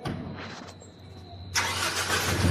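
Near and alone, a car engine cranks and fires, then settles into a steady idle, with a faint whine present just before it catches.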